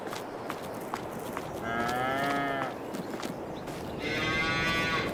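Cattle lowing in Farming Simulator 22, two drawn-out moos with clear harmonic tones, the first around two seconds and a second louder one near the end, over a steady low farm ambience.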